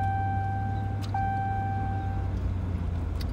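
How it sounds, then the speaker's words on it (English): A pickup truck towing a dump trailer labors uphill, its engine a steady low drone with a faint whine riding on top, heard from inside the cab, close and continuous without talk. "going up this hill, really tough for this truck"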